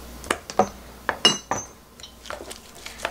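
A metal spoon clinks against a dish or jar while oligosaccharide syrup is added to peeled garlic being pickled, a handful of sharp light taps spaced irregularly, close and quiet.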